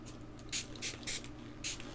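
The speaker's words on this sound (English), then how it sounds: "I spray this bottle of Michel Dermaceuticals on my face." A bottle of Michel Dermaceuticals fruit enzyme face spray is pumped onto a face: four or five quick, hissy bursts in an uneven rhythm, close and quiet over a low hum.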